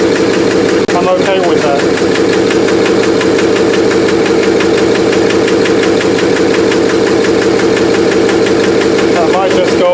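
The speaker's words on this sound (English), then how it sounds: "They're a little bit of a lifter tick, but given that it hasn't run in so long" A Rolls-Royce engine revived after sitting unused for a long time idles loudly and steadily with a slight, rhythmic lifter tick throughout, while a voice briefly speaks over it.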